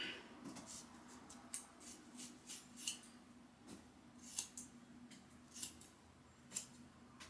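Scissors snip through hair in a self-cut at home, a series of short, crisp clicks and slices at an uneven pace, close and quiet.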